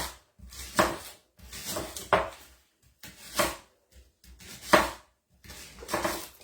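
A knife slices through leeks on a cutting board in five evenly spaced strokes, each a short crisp crunch ending in a tap on the board, close and clear with quiet gaps between.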